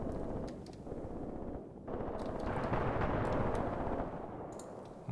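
Mortar fire in a video game battle comes as a muffled, rumbling barrage, with booming impacts that swell and overlap into a sustained low roar before fading.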